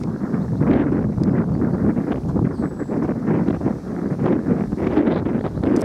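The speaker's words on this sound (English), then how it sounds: "it's a little bit windy here" Wind buffets a camera microphone outdoors at a roadside stop near Alton Abbey, a continuous loud rumbling roar with gusting surges throughout.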